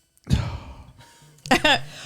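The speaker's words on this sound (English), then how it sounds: "No, I have to yawn though." A person yawns aloud, opening with a drawn-out breathy exhale and ending in a second, sharper vocal stretch, close to the mic with no other talk.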